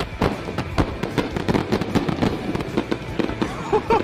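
A big, extremely expensive fireworks display going off, a rapid barrage of loud, sharp bangs and crackling bursts in quick irregular succession, with a crowd faintly audible beneath.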